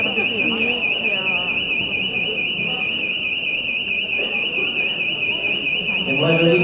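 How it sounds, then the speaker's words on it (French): Smoke detector alarm in a lecture hall, a loud, steady high-pitched tone sounding without a break while several people talk over it. "C'est un détecteur de fumée qui a"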